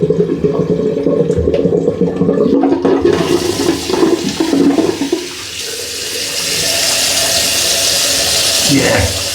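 Cold water gushes from a tap in a sink, a loud hissing rush that takes over after a few seconds of earlier clatter and runs steadily to the end, close by.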